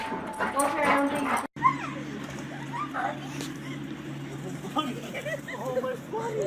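An excited dog greets a returning soldier with high whimpers, whines and short yips. The sounds come in quick bursts close by, mixed with a person's voice.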